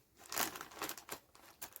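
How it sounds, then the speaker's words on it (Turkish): Scissors cut into a crinkly plastic chips bag, a few sharp rustling snips and crackles in quick succession, close and fairly quiet. "bu kalan Ama kısmı makasla kesiyoruz"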